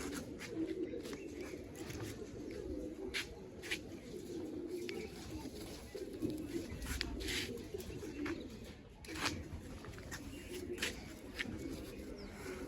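Black-headed pigeons coo in soft, repeated bursts from a nearby loft, with sharp chirps and small bird sounds scattered through a steady background.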